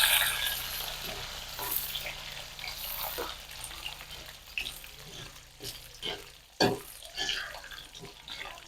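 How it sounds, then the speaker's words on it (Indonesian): Shallots and garlic fry in hot oil with a steady crackling sizzle close by, broken by occasional stirring clatters and spatters. "Kita goreng bawang merah, bawang putih ya, semuanya teman-teman kita goreng."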